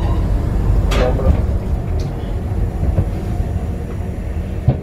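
Electric locomotive E131 shunting toward a rake of brown freight wagons, a steady low rumble with rail and wheel noise and a couple of squeals, heard from inside the cab.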